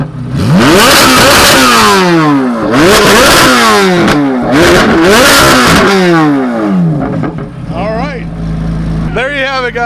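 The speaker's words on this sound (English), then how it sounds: "You know the Z06 sounds good, but god dang, is that good." A Chevrolet Corvette Z06 engine revs hard again and again, loud and close, each rise climbing to a high wail before dropping, with a few quicker blips at the end.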